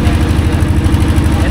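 A boat engine idles steadily on Patul beel in Natore, Bangladesh, its low rhythmic chugging continuous and close throughout the short stretch.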